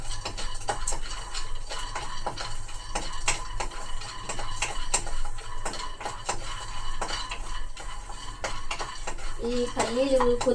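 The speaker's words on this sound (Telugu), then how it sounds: "పల్లీలు కొద్దిగా వేగిన తర్వాత అప్పుడు మిగతా వేసుకుందాం." Peanuts roast in a dry pan as a spoon stirs them, giving a rattling, clattery metallic scraping in repeated strokes, close and fairly loud, with a brief tonal clink near the end.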